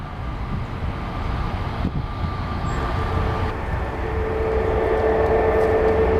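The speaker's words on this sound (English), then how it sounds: "There's our American A321 Neo that will be heading to Chicago O'Hare." American Airlines Airbus A321neo jet airliner at Seattle, a steady broadband roar with engine whine building and holding loud and close throughout, no voices.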